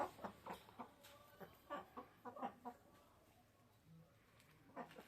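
Chickens cluck in short, repeated bursts, a faint, irregular series with brief pauses, heard at a modest distance.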